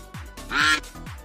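A duck quacking sound effect: three or four loud, nasal quacks in quick succession, close and clear, with the middle quack loudest.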